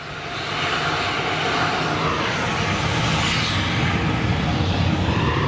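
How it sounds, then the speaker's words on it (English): A small aircraft flies past, its engine a loud, continuous broadband drone that builds slightly and holds steady throughout, with no talking. "Look at that tiny little aircraft."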